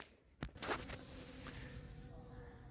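Honeybees pour out of a hive after being stirred up by warming and sugar feeding at an apiary, a steady mid-pitched buzzing swarm sound close by, with a sharp knock near the start and no talking.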